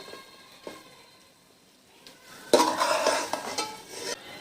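Pea pulao is served out of a cooking pot: a soft scrape early on, then a louder stretch of spoon scraping and rice shuffling against the metal pot, close and fairly steady before tapering off.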